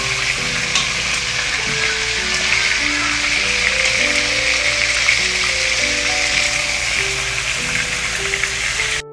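Chicken pieces shallow frying in a pan, giving a loud, steady, close sizzle that crackles without a break throughout.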